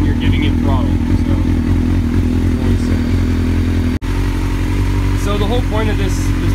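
A motorcycle engine fitted with a piggyback ECU idles loudly and steadily up close, with a brief cut near the middle and a few rising rev blips.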